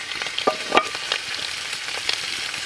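Catfish sizzling and crackling in a very hot frying pan, with close, steady frying hiss and a few sharper pops.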